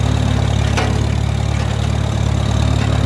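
An antique Farmall tractor engine chugs steadily while rolling along in fourth gear, a loud, close, rhythmic low thumping with an even pulse throughout.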